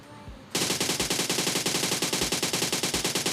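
Rapid automatic gunfire in the mobile battle-royale game PUBG Mobile starts abruptly after a brief quiet moment, then continues as a dense, loud, evenly pulsing burst of shots to the end.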